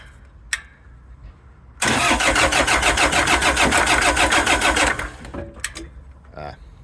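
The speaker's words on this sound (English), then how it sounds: "let's see if our Kubota starts right up now" A Kubota generator engine is cranked by its starter for about three seconds in a loud, rhythmic chugging burst, then falls away, followed by a few clunks and quiet background noise.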